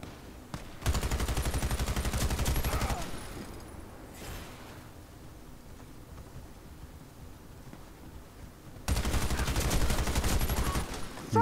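Sniper fire and other gunfire in a multiplayer shooter game, loud bursts of shots at the start and again near the end, with a quieter stretch of distant sounds in between.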